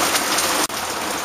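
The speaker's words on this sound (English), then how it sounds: "There's a lot of rain out here." Heavy rain pours steadily outdoors, a dense, continuous hiss of drops close by, broken only by a split-second dropout partway through.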